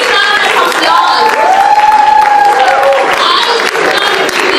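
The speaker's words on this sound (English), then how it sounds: "I would like to give them a big round of applause." Audience at a temple ceremony applauding the children, a full, loud round of clapping with voices and a sustained sung or spoken tone running through it.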